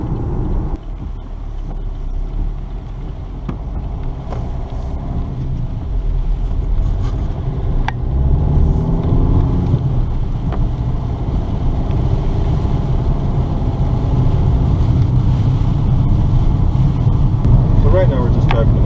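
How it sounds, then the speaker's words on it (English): A 2014 Opel Mokka SC driving on bumpy back roads, heard from inside as a steady low road and engine rumble with wind noise. Occasional faint knocks come through, and the level stays constant throughout. "Right now we're just driving the Mokka out in some of the back roads"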